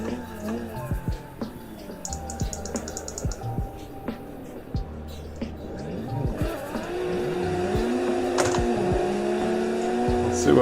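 A car drifting in the Assetto Corsa racing game, with a revving engine and repeated tire squeals rising and falling, while a person talks over it and keyboard clicks are audible.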